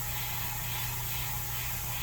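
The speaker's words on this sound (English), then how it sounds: "Hold it down and then I spray right at it" Spray gun spraying a black paint mix, a steady unbroken hiss held near and loud throughout.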